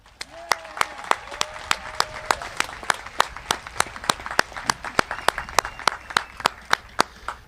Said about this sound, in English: Please continue that applause for our amazing high school band and Dr. Caruso